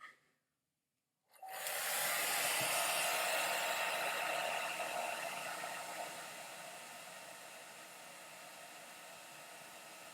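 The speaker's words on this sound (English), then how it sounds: "hair dryer, low heat" A hair dryer on low heat switches on after a brief silence and runs with a steady, loud airy whoosh, easing slightly softer partway through.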